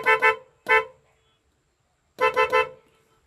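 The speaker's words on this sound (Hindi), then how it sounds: "तो हॉर्न हमको कुछ ऐसे साउंड देते हैं इसके।" A 2005 Maruti Suzuki Zen LXi car horn honks in short bursts: two quick beeps, a single beep, then three rapid beeps after a pause, loud and close.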